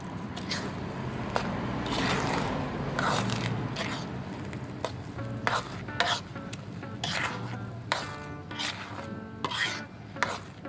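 Pandan coconut milk and rice mixture is stirred in a pan until it thickens and dries, with repeated close scraping and rubbing strokes in an uneven rhythm and no talking.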